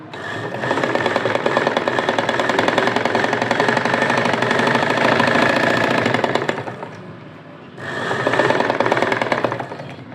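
A sewing machine runs steadily, stitching a fabric bow piece with a half-inch top seam, a dense mechanical whir that pauses briefly near the end before starting up again, with no voices.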